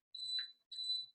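A dishwasher signalling its finished cycle with two short, high electronic beeps in quick succession, thin and somewhat distant in an otherwise quiet room.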